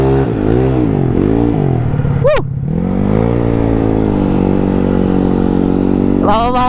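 A Yamaha Mio scooter revs hard at full throttle, its engine pitch climbing and sweeping up and down close by, briefly dropping before winding up again, with voices under it.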